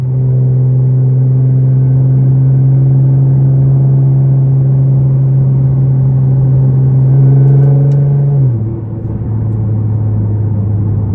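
A 2014 Nissan GT-R with aftermarket exhaust cruising, its engine holding a loud, steady low drone from inside the cabin, then a brief shift that drops the pitch before the drone settles again.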